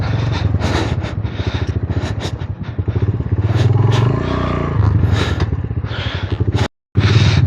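An off-road motorcycle labours up a steep slope at high altitude, its engine chugging in a loud, rough, uneven rhythm with clattering and scraping, briefly cutting out before resuming.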